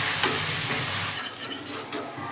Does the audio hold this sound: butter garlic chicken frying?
yes